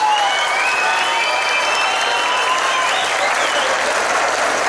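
Steady crowd applause in the stands at a rodeo-style bull-riding tournament, continuous clapping mixed with a few whistles and shouts, fairly close and loud throughout.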